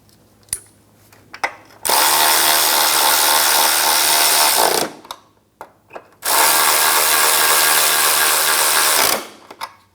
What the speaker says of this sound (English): Start the nuts and then tighten them down.